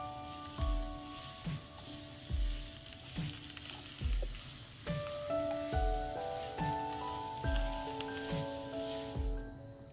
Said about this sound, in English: Once the oil is heated, let the falafels fry until crisp and golden.